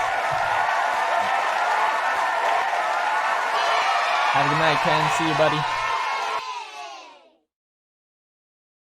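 A canned applause and cheering sound effect plays at the close of a podcast episode, a full crowd with whoops that fades out abruptly, while two men briefly say goodbye over it.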